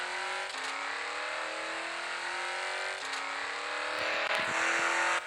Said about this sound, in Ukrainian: Ні, мотор прям реве.